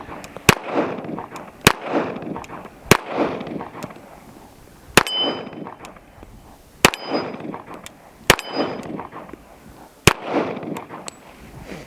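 Repeated gunshots from a Tisas 1911 pistol at an outdoor range, each followed by a metallic ring off a steel target; about nine sharp cracks spaced roughly one to two seconds apart, loud and close, with no talking.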